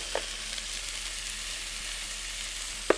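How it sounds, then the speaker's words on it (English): Steady, bright sizzling of steak cooking, with a couple of sharp pops and clicks, no talking. "You gotta love the sizzle"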